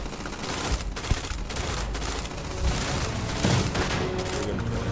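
Gunfire in the space game Starfield, a sustained barrage of rapid shots and booming impacts that stays loud and dense throughout, with no voices over it.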